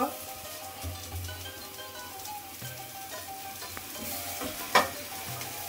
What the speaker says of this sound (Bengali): শাকটা আমি 5 মিনিট ভেজে নিয়েছি।